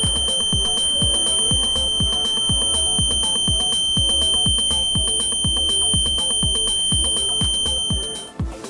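Zigbee-based wireless home security system buzzer set off by a window opening: a rapid, regular train of loud electronic beeps with a steady high tone, continuing for about eight seconds before cutting off.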